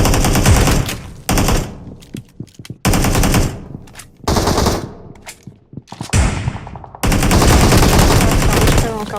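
Loud automatic gunfire in PUBG, the battle royale shooter, comes in long rapid bursts separated by short gaps and scattered single shots, close and dominant, with faint voices under it.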